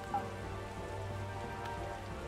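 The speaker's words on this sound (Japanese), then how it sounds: "あ、雨か。" Steady rain patters in a Sengoku-era strategy game, Taikou Risshiden V DX, as an even, soft, continuous hiss of falling drops with no voices over it.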